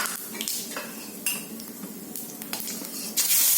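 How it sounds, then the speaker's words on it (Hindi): Cumin seeds dropped into hot oil left over from frying potatoes and eggs in a kadhai, with crackling sizzle, scattered clinks and scraping of a spoon against the pan, close and fairly quiet. "अब इसी तेल में 1/2 चम्मच जीरा डालेंगे"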